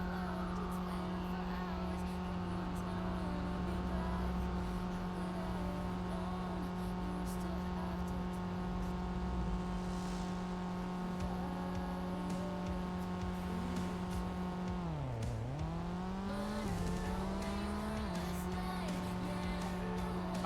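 Porsche car engine droning steadily in the driving game Big Ambitions, a continuous mid-pitched hum with a brief dip and rise in revs partway through.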